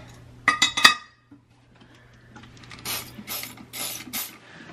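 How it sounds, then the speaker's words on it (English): Metallic clinks and a few quick ratcheting clicks from a wrench loosening a toilet handle nut, close by, with short pauses between bursts. "I'm just gonna take my wrench and I'm just loosening this up right here"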